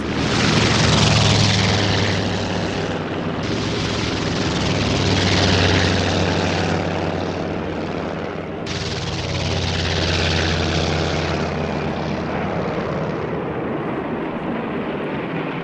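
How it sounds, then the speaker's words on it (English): Propeller aircraft take off from aircraft carriers for the attack on Pearl Harbor. Their engines make a loud, continuous roaring drone that swells and fades slightly, with a brief dip partway through. "And 1 hour later, at 7 a.m., 167 aircraft of the second wave of attackers took off."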